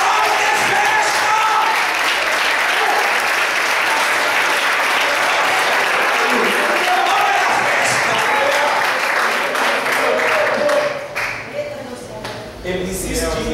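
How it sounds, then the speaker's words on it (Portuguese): A church congregation at a Brazilian night vigil service applauds for Jesus, sustained, dense clapping from many hands filling the room for over ten seconds, with voices mixed in and the clapping thinning toward the end. "Dê uma salva de palmas para Jesus"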